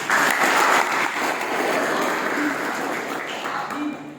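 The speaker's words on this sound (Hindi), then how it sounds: "जोरदार तालियां चाहूंगा।" Loud, sustained audience applause from a large gathering, thick and steady from start to finish and easing slightly toward the end, with a faint voice surfacing briefly near the close.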